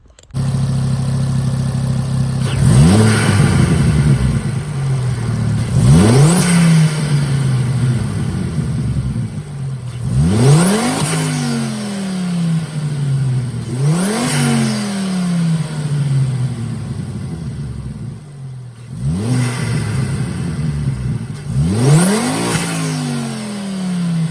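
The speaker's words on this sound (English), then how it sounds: "Give it a few blips and see if it makes any difference, see what it sounds like." A Ford Focus ST225 (Mk2) engine with a crossover exhaust pipe idles, then is blipped five times in sharp, evenly spaced revs, each climbing quickly and dropping back to a rumbling idle, loud and close.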